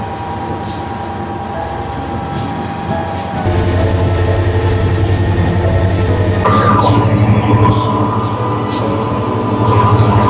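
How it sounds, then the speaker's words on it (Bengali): Chittagong Mail train running through Laksam station, a loud steady rumble that swells partway through, with continuous wheel and carriage noise close by. "এই হচ্ছে চট্টগ্রাম মেইল"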